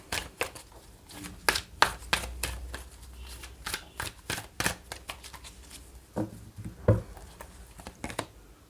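Oracle cards shuffled by hand for a tarot reading, a run of quick papery riffles and slaps repeating close up through the whole stretch with brief pauses, no voices.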